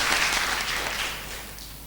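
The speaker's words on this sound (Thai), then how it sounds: "เสียงปรบมือดัง ๆเลยนะครับ" Audience applause at a Thai natural-disaster prevention seminar, a dense steady patter of many hands that fades slightly toward the end, with no voices over it.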